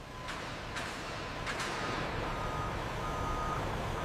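A truck backs into position for unloading at a leather factory yard, its reversing alarm sounding as three or four evenly spaced high beeps over a steady diesel engine rumble.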